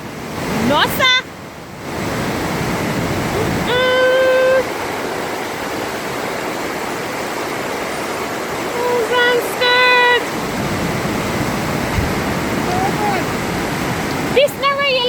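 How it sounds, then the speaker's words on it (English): Floodwater of a swollen river rushes loudly and steadily past the May Pen bridge in Jamaica, a continuous broad roar throughout, with people speaking briefly over it in several short bursts. "Look on the Maypen bridge, look on the river."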